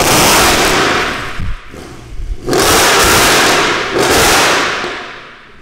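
A loud Mercedes C63 revs hard, its engine roaring up in sharp bursts that break off briefly, then surge again and fade, very near and dominant with no talking.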